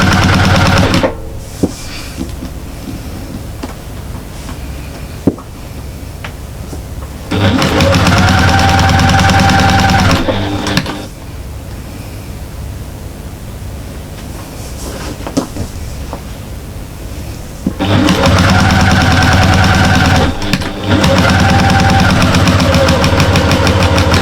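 A sewing machine stitches a flying geese cushion in two loud, sustained runs of whirring, each a few seconds long, separated by quieter handling noises with no talking.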